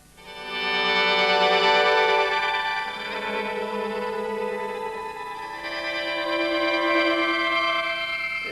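An electric guitar run through a pitch-change program on a PCM70 effects unit, giving a thin, chipmunk-like shifted tone that sustains richly and continuously with swelling phrases and no talking.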